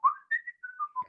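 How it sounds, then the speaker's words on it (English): A person deliberately whistles off key, a short wavering melody of several breathy notes that slide and jump in pitch, close and fairly quiet, with no talk. "So trying to whistle off key was more difficult."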